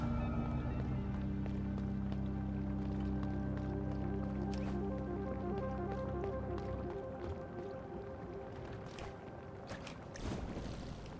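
Blight water in the video game MIO: Memories in Orbit, heard as sloshing, dripping and squishing liquid over a steady hum of game music, with scattered soft splashes growing more prominent after the music drops away.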